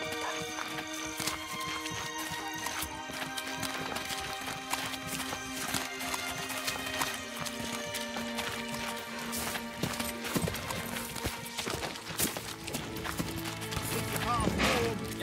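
Horse hooves clip-clop in the medieval village-building game Manor Lords, a quiet, irregular patter of steps mixed into dense game music and ambient town sounds.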